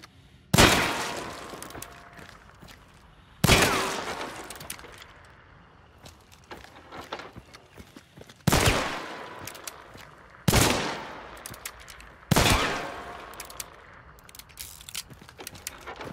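Five loud, sharp gunshots from the shooting range in Hunt: Showdown, spaced several seconds apart, each with a crisp crack and a decaying echo tail, alone with no talking.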